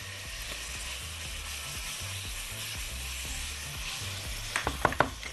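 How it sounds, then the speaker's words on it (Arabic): Garlic sizzles steadily in hot oil with onions in a pot, a continuous close frying hiss with a few brief clinks of a utensil near the end and no talk. "تعالوا ننزل بالثوم دلوقتي"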